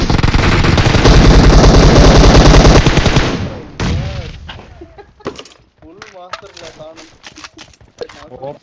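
Dense automatic gunfire in the mobile battle royale game PUBG Mobile, loud and continuous for about three seconds, then a few sparser shots as someone talks over it.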